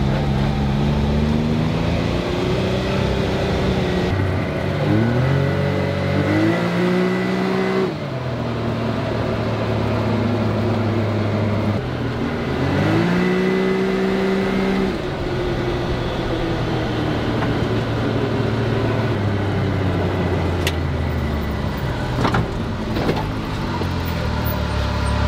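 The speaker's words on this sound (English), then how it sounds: "I'm going to go ahead and take this thing out for a ride real quick just to make sure everything works on it" A Can-Am off-road vehicle roars along on a test drive, its engine note climbing and falling as it revs up and shifts through gears, close and loud for the whole stretch.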